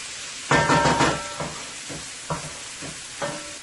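Karela sizzling in a frying pan, a steady hiss broken by several knocking stirs and scrapes of a utensil against the pan, close and fairly loud.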